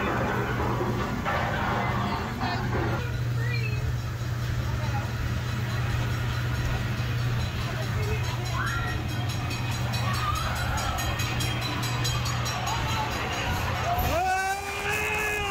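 Steam train running at the Dollywood theme park, a steady low rumble with a sustained horn-like tone under crowd chatter and voices, ending in a louder rising squeal near the end.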